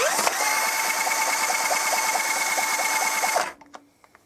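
A cordless drill whirs steadily to spin over a Honda EX650 motorcycle engine, a loud continuous buzzing motor with a rapid regular ticking, then cutting off abruptly and leaving a few faint clicks.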